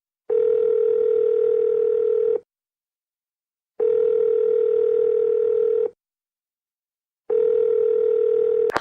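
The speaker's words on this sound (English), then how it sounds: "So let's call George" A steady telephone tone sounds in three long, evenly spaced bursts of about two seconds each, with silent gaps between them.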